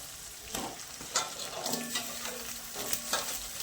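Beans and eggplant sizzle in a hot pan as vegetables fry for sambar, steady crackling with occasional stirring scrapes and clinks, close and moderately loud throughout.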